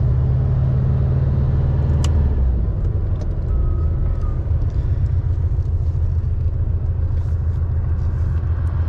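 A 2004 Volkswagen Beetle Ultima Edition drives along with a steady low engine rumble that shifts in pitch early on, then settles into an even, continuous drone with faint road noise.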